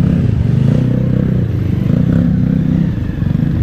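Big bike motorcycles on a charity ride pass close by in a loud, steady engine roar with some rattle, sustained throughout without a break.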